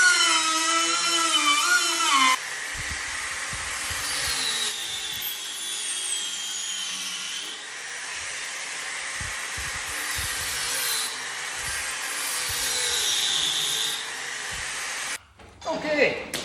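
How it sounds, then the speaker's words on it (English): An angle grinder cuts into the cooling fins of an 11hp go-kart engine in place, a high, screeching whine that shifts pitch as it bites and eases, then cuts off near the end. "So what I'm gonna do is just grind out these fins here, a hair."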